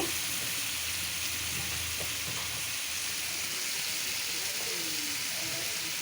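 Sliced potatoes frying in masala for a light fish and potato curry, a steady moderate sizzle with soft stirring scrapes throughout and occasional faint clinks.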